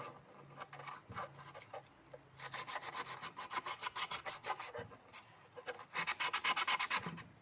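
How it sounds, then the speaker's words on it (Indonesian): Sandpaper rubbed briskly back and forth over an iron nail to strip its paint, a close, dry rasping in fast rhythmic bursts with short pauses between runs. "Paku keenam yang kita amplas supaya dia berwarna putih. Kita membuka catnya."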